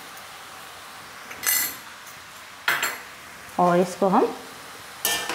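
A spoon stirs veg chowmein in a pan, with several short scraping and clinking strokes separated by pauses, and a brief stretch of speech in the middle.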